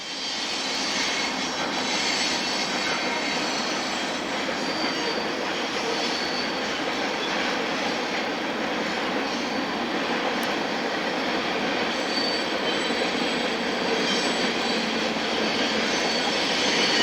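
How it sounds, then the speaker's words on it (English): Long Norfolk Southern mixed freight train rolling east near the Rockville Bridge over the Susquehanna at sunset: a steady, loud, continuous rumble and roar of passing cars throughout, with faint squeals and no talking. "mixed freight 38G brings a long train east for Abrams Yard outside of Philadelphia"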